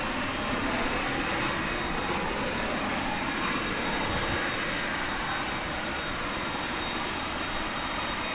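An American Eagle Embraer 175 jet airliner landing at DFW International Airport, a loud, steady roaring rush of engines sustained throughout.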